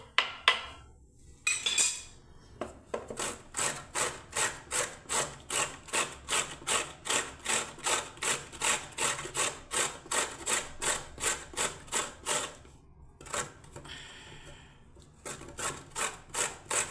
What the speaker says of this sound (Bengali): গাজরটাকে আমি একটু গ্রেট করে নিচ্ছি